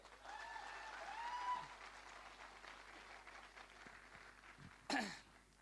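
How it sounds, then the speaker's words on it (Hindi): Audience applause at a success-seminar event in Indore, a steady wash of clapping that swells and then fades, with a brief louder burst near the end and no talk over it. "तो एक बार जोरदार तालियां आप स्वयं के लिए"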